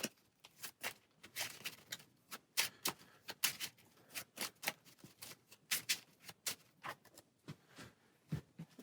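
Marvel Champions card game deck being shuffled by hand, a rapid series of crisp riffling card bursts close up, with no talking.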